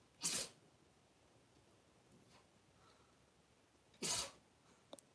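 Two sharp sneezes, several seconds apart, break an otherwise quiet room.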